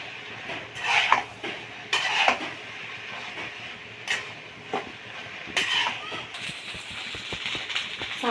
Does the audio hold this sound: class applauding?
no